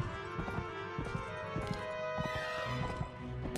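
Horse hooves galloping in the video game Mount & Blade, a steady run of clip-clop beats mixed with game music and battle noise, fairly close and moderately loud.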